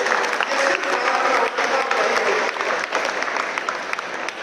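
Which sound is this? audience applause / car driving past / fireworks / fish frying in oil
audience applause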